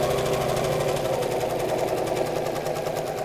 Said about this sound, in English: Stop with the needle in the down position while you pivot around and sew around the second side.